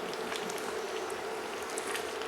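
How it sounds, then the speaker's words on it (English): A pot of Greek semolina halva boils rapidly in the middle, giving a soft, steady bubbling and spitting hiss at low level with no voices. "It's actually boiling quite rapidly in the middle."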